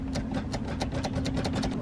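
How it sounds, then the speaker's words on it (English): A car with a nearly dead battery fails to start, giving a steady, rapid clicking or chattering over a constant electrical hum, repeating evenly and close up with no voices. "it doesn't have enough power to turn over the engine"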